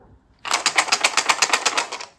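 After a moment of quiet, dice rattle in a rapid, steady clatter for about two seconds, close and fairly loud.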